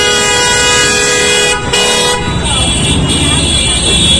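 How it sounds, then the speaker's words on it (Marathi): Busy market street traffic in an Indian town with repeated car horns honking over engine noise, the horn blasts loud and sustained, with a voice speaking amid the din. "तो बघा किती गाड्या चालल्या ट्रॅफिक झाली आहे फुल"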